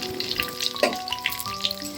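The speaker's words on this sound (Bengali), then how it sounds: "তার মধ্যে ফোড়ন দিচ্ছি তেজপাতা, গোটা জিরে আর গোটা গরম মশলা" Bay leaf, whole cumin, whole garam masala and dried red chillies fry in hot oil left from frying koftas, a steady close sizzle with crackling pops and faint utensil tones.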